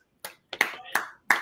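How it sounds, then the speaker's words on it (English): A few isolated claps ring out in a quiet room, four sharp separate hits spaced roughly a third of a second apart, close and dry rather than a full crowd. "Round of applause."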